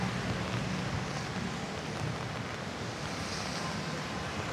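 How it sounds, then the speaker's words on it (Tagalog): Strong typhoon wind roars in a steady, heavy rush, buffeting the microphone with constant broadband noise that barely eases across the stretch. "Ay, lakas ng hangin."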